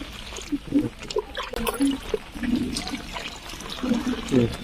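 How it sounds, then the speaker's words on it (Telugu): Fish being washed by hand in water, with intermittent splashing and trickling close by while a person talks throughout. "కడుగు ఇప్పుడు చేతులతో అట్లా నీట్గా కడుగు"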